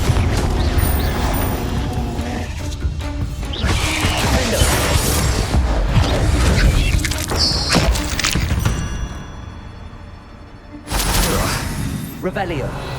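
A Confringo blasting spell explodes in Hogwarts Legacy, a dense burst of crashing, thudding impacts over game music and effects, with a second loud hit near the end after a brief dip.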